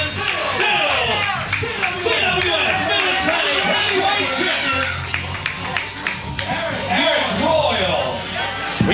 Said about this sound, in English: The crowd here in the Mid-Atlantic Sportatorium not happy about it